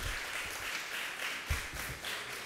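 Audience applause breaking out in a legislative justice committee hearing, scattered clapping from a crowd in a large room, moderate and steady with a few louder claps.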